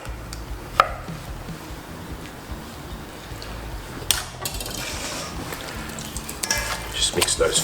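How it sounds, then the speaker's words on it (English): Chicken marinade with squeezed lemon being mixed in a bowl, giving soft wet stirring and squelching over a low hum, with a sharp clink near the start and louder scraping toward the end. "Just mix those flavours around."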